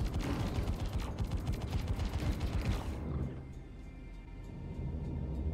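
Rapid automatic gunfire in Star Citizen aimed at an enemy turret near a bunker, a dense rattling burst for about three seconds, then fading into a low mechanical hum and ambient game drone.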